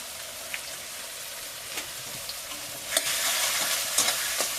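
Spice paste with turmeric and chilli powder sizzles in a pan while being stirred, a soft continuous frying hiss that grows louder and crackles more toward the end, close up with no talking.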